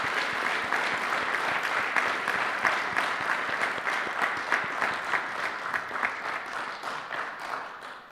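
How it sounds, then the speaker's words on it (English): Audience at a live book-club evening of musicians and authors applauding, a steady dense patter of clapping held at moderate level for several seconds and slowly thinning at the end. "A round of applause for that"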